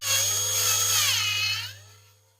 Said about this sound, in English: Let's just clean that drill head